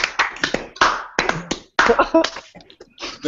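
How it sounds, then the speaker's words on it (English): A standing audience claps for a man being honoured on a live game show, a burst of sharp, uneven hand claps that comes in clustered waves with brief gaps, fairly close and loud. "Stand up and clap for this man."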